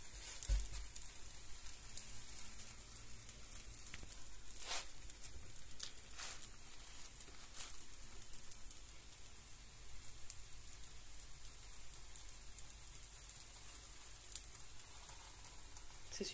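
Food cooks on a very hot plancha griddle from Action with a faint, steady sizzle and a few sharp pops, quiet throughout.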